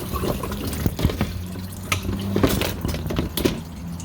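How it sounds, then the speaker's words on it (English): Water draining through a homemade wine bottle filler with a valve and water leveler, giving trickling, gurgling liquid with scattered drips and small clinks, close and moderately loud with no voices. "the water is draining out"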